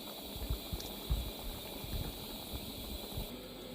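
Fig jam syrup simmers in a pot, giving off a soft, steady bubbling and popping over a faint hiss, quiet and continuous throughout.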